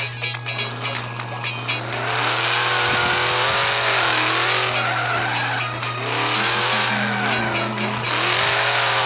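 A car in a video game drives and skids on ice, its engine droning steadily with rising and falling pitch while tires squeal in long smears, loud and continuous throughout.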